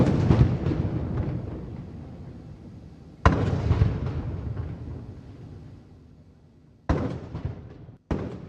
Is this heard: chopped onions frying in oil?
no